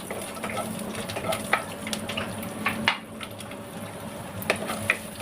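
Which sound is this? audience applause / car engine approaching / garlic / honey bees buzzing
garlic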